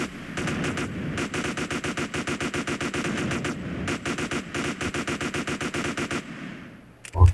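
Rapid automatic gunfire from a firefight in GTA San Andreas rattles almost continuously in dense bursts, with one brief gap near the middle and a heavy low thud at the end.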